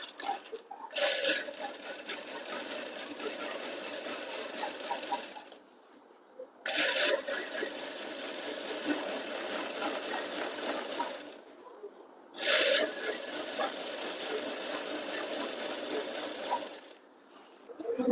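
A sewing machine stitching a thin blouse dori made from blouse fabric runs in three long steady whirring bursts, each starting with a sharp clatter and separated by brief pauses, close and fairly loud.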